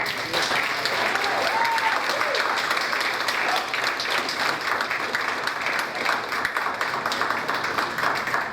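An audience applauds at a high school class day award ceremony, a dense, sustained wash of clapping from many hands that holds steady and fairly loud across the whole stretch, with no clear talking.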